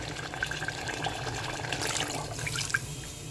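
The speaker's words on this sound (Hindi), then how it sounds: "अब हम इसमें पानी डाल देंगे।" Water is poured into a pot of meat and bottle gourd curry cooking on the stove, a soft steady splashing stream with faint bubbling and drips, close and fairly quiet.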